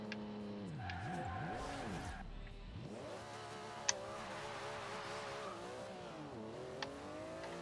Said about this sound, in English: The tyres just want to burn, man.